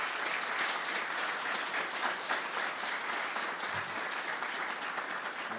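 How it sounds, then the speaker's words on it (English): An audience at a transportation department conference session gives a presenter a steady round of applause, even clapping heard from some distance at moderate level with no talking over it. "How about a round of applause for Vasim?"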